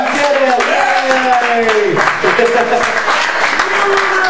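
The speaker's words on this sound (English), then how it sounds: "So a round of applause." Stand-up comedy audience claps steadily over about four seconds while a performer keeps talking over the applause and a voice calls out briefly.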